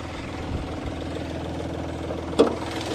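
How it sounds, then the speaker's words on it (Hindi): Hyundai Grand i10 diesel three-cylinder engine idling, a steady low rumble with a faint knocking texture throughout and one brief louder knock near the end, heard alone without talk. "ये गाड़ी का साउंड है डीजल वेरिएंट है साउंड थोड़ा तेज आता है"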